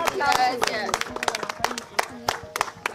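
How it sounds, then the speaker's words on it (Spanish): A small group claps for Gaby in short, uneven bursts of hand claps under a mix of chatter and thanks spoken over the top. "Chicos, un aplauso para Gaby que terminó."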